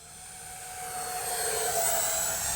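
A radio-controlled X-Fly 40mm F-15 model jet makes a show pass at an afternoon flying session, its turbine whine rising steadily as it approaches, loud and high-pitched with no talk over it.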